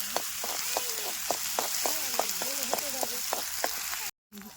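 Spice masala sizzles in hot oil in a pan for egg curry, a steady bed of fine crackling dotted with sharp pops and spits, close and moderately loud before a brief cutout near the end.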